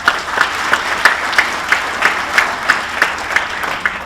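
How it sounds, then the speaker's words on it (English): At a sports hall of fame induction ceremony, an audience gives a short, even burst of applause, with a steady pulse of claps standing out close by. "A big round of applause for United Fiber"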